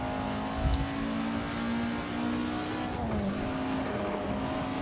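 A classic car in the Assetto Corsa racing game revs hard into its turbo range, a loud continuous engine drone that shifts pitch as it accelerates, with faint tire noise and no talk.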